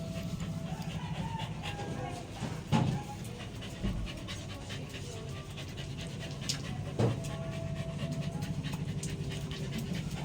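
Indoor dog panting, a steady rapid huffing close to the listener throughout, with a person talking over it and a couple of brief louder knocks.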